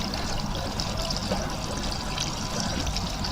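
Water runs gently and steadily through a moss filter in a garden pond, a soft, continuous trickle and splash heard close by with no voices.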